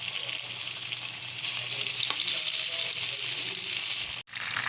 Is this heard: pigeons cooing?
no